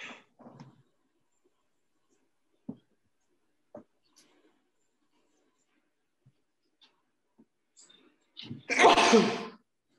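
A single loud sneeze bursts out near the end, close and sharp, after several seconds of quiet lab room noise with faint taps and a brief murmur at the start.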